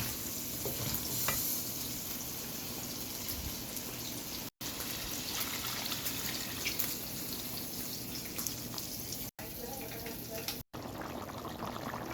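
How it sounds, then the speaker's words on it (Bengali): Potatoes fry in a pan for potato dum with eggs, a continuous close sizzle with scraping stirs and occasional light clinks throughout, and a few brief cut-outs. "এই জন্য প্রথমে আলুটাকে খুব ভালো করে কষিয়ে নিচ্ছি"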